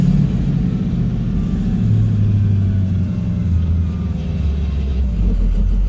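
A 2006 Ford F650's 6.0L VT365 diesel engine drones steadily with a deep low rumble and a faint overboosting whine on top, loud and continuous throughout; the truck has no power under load.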